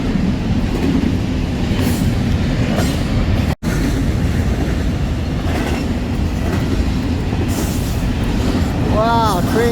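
A long double-stack freight train rolls past up close and loud, with steady rumble and clickety-clack of wheels on rail joints, a brief dropout midway, and faint squealing tones near the end.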